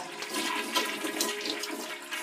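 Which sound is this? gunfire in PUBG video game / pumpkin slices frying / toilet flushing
toilet flushing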